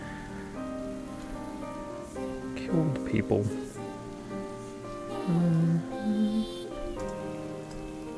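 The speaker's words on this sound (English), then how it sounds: "this is the rain they were talking about in the cutscene" Rain falls steadily in the video game Ender Lilies, a continuous soft patter laid over ambient game music while a person speaks briefly above it.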